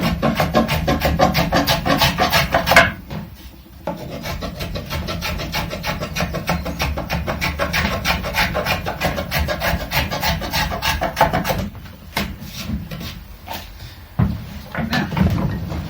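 A wood rasp carves a bevel on the wooden body of a rebuilt early custom guitar, making steady, rhythmic rasping strokes up close, broken by two short pauses.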